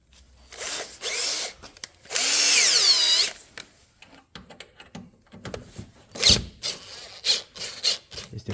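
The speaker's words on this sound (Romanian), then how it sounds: "Bormașina foarte ieftină." Cheap power drill loosening a tight part on a Dacia Logan 1.5 dCi during an oil and filter change, used with a flexible extension and the hammer action switched off: several short whirring bursts, one longer loud run, then tool clatter and handling noise.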